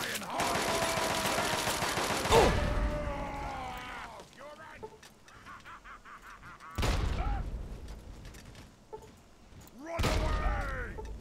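Frag grenades going off in Fallout 3: several loud blasts, the first long and rumbling, followed by two more separated by quieter pauses, with a voice heard alongside.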